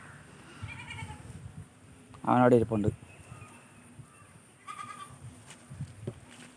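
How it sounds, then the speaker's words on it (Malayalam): A goat on a farm gives one loud, close, wavering bleat in the middle, with softer animal sounds and a person talking around it. "ഇവിടെ നമ്മുടെ ആടുകൾ"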